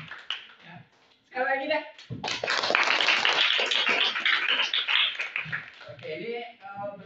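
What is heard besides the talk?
audience applause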